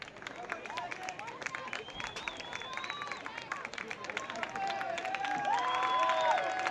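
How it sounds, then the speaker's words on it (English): Crowd applause and cheering at a women's college soccer match, Northwestern Ohio at Taylor, rising toward the end under a commentator's voice, with whistles and outdoor crowd noise. "So Calvani gets a much-deserved round of applause."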